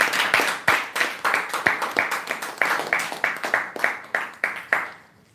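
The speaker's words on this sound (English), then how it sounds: "Let us welcome him first of all with a thunderous round of applause." At a Toastmasters club meeting, a small group claps to welcome a speaker, with distinct hand claps in loose rhythm that sound close and somewhat roomy, then fade out near the end.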